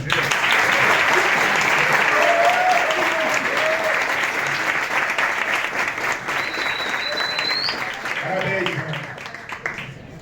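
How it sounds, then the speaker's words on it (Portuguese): Steady applause rings out during a Flamengo podcast interview, dense clapping lasting several seconds and slowly easing, with voices talking faintly beneath it. "Deixa eu bater palmas para você aqui."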